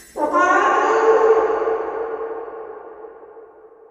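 A cat's meow treated with a reverb effect rings out once, clear and fairly loud, then trails into a long, slowly fading wash with no talk over it.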